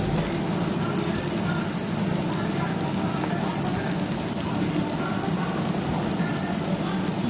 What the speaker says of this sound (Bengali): আমরা এটাকে ভালো করে ভেজে নিচ্ছি